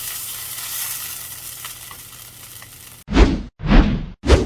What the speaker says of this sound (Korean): 이제 저어서 잘 섞어주세요.